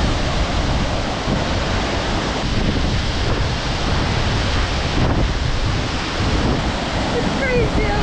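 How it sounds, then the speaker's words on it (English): A waterfall in Austria roars in a constant, loud, broadband rush heard from right beneath the falls, with wind buffeting the microphone throughout. "we are under the waterfalls"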